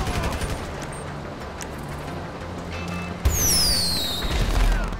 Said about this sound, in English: Do none of these fireworks actually do anything,